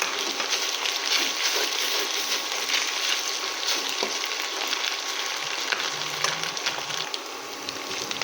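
Spice paste fries in a pan for a beef curry with taro, giving a steady, close, crackling sizzle with faint stirring scrapes throughout and no voices.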